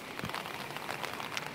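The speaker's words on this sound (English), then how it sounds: "now it's raining and the wind seems to be coming inwards a little bit" Steady rain pattering on a camping tarp during wild camping in the Lake District in bad weather, a continuous dense hiss of drops close overhead with no voices.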